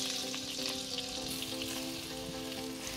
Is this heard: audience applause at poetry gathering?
no